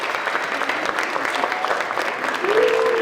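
An audience claps steadily for the volunteers and artists at an artist talk, a sustained indoor applause from a modest crowd, with a faint tone rising near the end.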